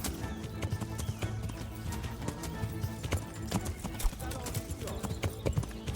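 A horse gallops in the medieval game Kingdom Come: Deliverance, with rapid, rhythmic hoofbeats that stay close and steady throughout, beneath a player's voice talking over them.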